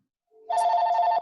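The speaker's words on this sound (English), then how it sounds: "Somebody's got a phone call." A telephone rings once during a meeting, a short, loud electronic trill cutting in alone after a brief quiet lead-in.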